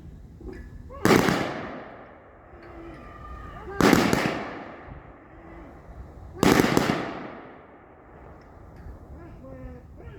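Three loud, sharp rifle volleys crack out several seconds apart in a ceremonial salute at a national cemetery, each echoing away outdoors, with spoken commands heard between shots.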